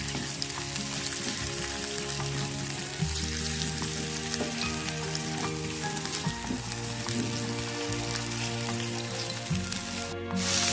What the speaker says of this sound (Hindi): ये देखें चिकन को इतना पकाना है कि ये व्हाइट कलर हो जाए इसका।